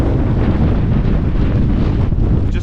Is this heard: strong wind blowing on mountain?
yes